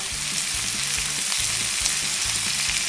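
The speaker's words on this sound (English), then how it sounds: "I'm going to add a little bit of olive oil to this and scrape off all the masala that was stuck to the pan" Vegetables and masala fry in olive oil in a pan for a chicken enchilada dish, producing a loud, continuous close sizzle broken by repeated scraping strokes of a utensil across the pan.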